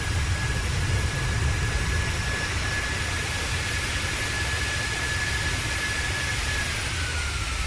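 Jet engine thrust reversers on a Boeing 737 in the PMDG 737 flight simulator, giving a steady, loud broadband roar with a low rumble and a faint whine, continuous for the whole stretch without talk.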